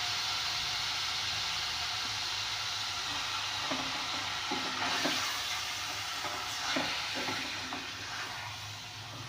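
Beef pieces sizzle steadily in oil in a pan over a lowered gas flame while korma is being made, a continuous broadband frying hiss with a few brief stirring scrapes and bumps partway through, no talk.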